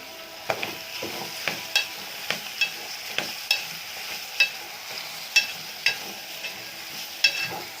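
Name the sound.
meal maker with tomato, curry leaves, green chilli frying in oil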